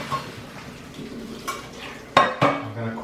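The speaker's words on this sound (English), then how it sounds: "Now I'm just going to strain these out." Blanched basil leaves tipped into a metal kitchen strainer, with soft scrapes and then two sharp metallic knocks of the strainer against a pot, followed by a brief watery rattle.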